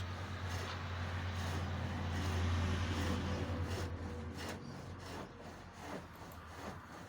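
A chisel smooths a hawthorn bowl-turning mandrel spinning on a pole lathe, giving a continuous soft rubbing scrape with gentle rhythmic swells and a low background hum, fairly quiet.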